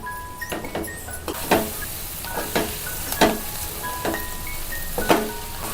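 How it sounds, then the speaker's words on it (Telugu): Eggs frying with masala, coriander powder and garam masala in a pan, giving a steady soft sizzle broken by about five clear scraping stirs of a spatula, close and moderately loud, with no talking. "ఎగ్గు బాగా ఫ్రై కావాలి"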